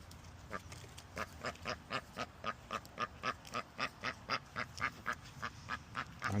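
A duck quacking outdoors in nature, a rapid, evenly spaced run of about twenty loud nasal quacks, close by, with no talking.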